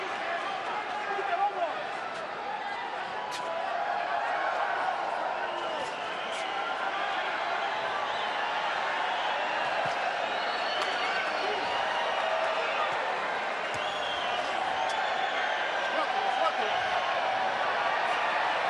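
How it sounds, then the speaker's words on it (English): Boxing arena crowd at the MGM during the Casamayor vs Marquez fight, a steady broad roar of cheering that holds at an even level throughout, with a commentator talking over it. "And the crowd very much into this fight. A wave going on here at the MGM."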